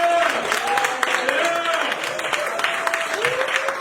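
An audience at a first stand-up comedy gig bursts into sustained applause, a dense wash of many hands clapping at close range, with scattered voices and cheers mixed in.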